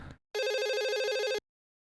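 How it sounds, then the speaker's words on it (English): A telephone rings in one steady trilling burst of about a second, loud and close, beginning right after a brief snatch of voice and followed by silence. "Yes, I too can hear the phone,"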